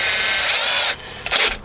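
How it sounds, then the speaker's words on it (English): A power tool drives screws into a car radio mount while a stock radio is reinstalled in a Buick Century: a loud, steady mechanical whir stops abruptly, then a short second burst follows. "it's not a great idea to use power tools to screw things in"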